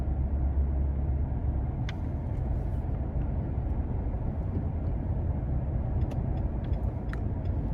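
2022 Nissan Frontier SV King Cab pickup truck cruising at moderate speed, a steady low road and engine rumble heard from inside the cab with faint tapping noises, no talk.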